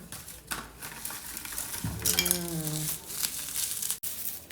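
Bubble wrap wrapped twice around a new dog trimmer crinkles and rustles as it comes off, close and continuous, with people talking over it.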